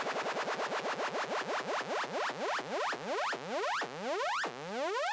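A Serum synth riser effect sweeps upward over and over, its repeated rising chirps growing longer and more spaced out, with the low end removed by a high-pass filter.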